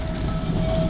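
A train rolls along rails in Kolkata, a steady continuous rumble with a sustained tonal hum, heard close and alone without voices.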